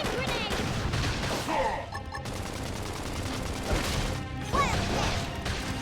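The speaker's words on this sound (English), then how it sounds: "Flame grenade." A flame grenade hits in the video game Xenoblade Chronicles X amid a busy battle, with crashing impacts and rapid, gunfire-like bursts piling up loudly over several seconds, and faint voices mixed in under the combat noise.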